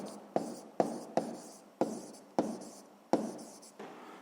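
Chalk or pen writing by hand during a seventh-grade physics lesson, six sharp strokes in a steady rhythm, each tapering off, close and clear with no talking.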